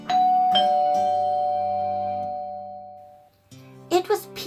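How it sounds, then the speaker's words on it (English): A two-tone ding-dong doorbell rings with a long, sustained chime that slowly fades, followed by a shorter second chime and a brief burst of voice at the end. "as the doorbell rang"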